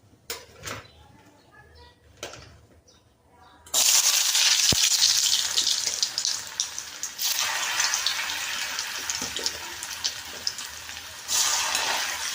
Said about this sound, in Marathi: चला तर आपण अगोदर बटाटा फ्राय करून घेऊ.